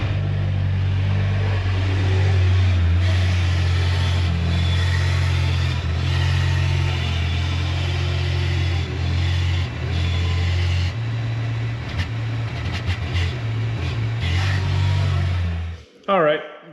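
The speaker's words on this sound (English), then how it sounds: "Got the Kubota, gonna hook on and move it inside." A Kubota tractor engine runs steadily and loudly at close range while hooked to an offroad trailer and moving it, holding a constant low drone throughout before cutting out near the end.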